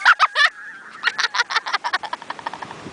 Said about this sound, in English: These birds are insane.